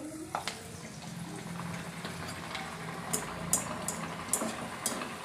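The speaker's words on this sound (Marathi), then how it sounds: "खूप छान अशा पुऱ्या मस्त तळत आहेत आणि फुगत पण आहेत" Spiced bajra millet puris fry in hot oil, giving a soft, continuous bubbling sizzle with a few faint sharp clicks and pops near the end, quiet and close.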